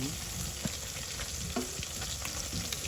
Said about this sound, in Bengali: মাছগুলো যাতে বেশি পোড়া না লাগে ওই বিষয়টা লক্ষ্য রাখছি।